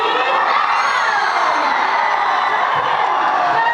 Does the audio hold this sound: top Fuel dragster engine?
no